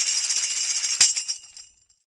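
A tambourine's bright jingles shimmer continuously, then a single firm strike rings out and the metal zils fade away to silence within about a second.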